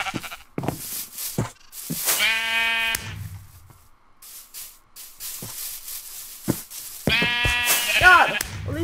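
Minecraft sheep bleat in a couple of loud, harmonic bursts within a video game, separated by quieter stretches of clicks and small game sounds, with no speech heard here.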